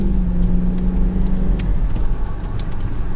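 A car engine revs hard as the driver accelerates, a loud close rising roar with a brief gear change partway through, no talk over it.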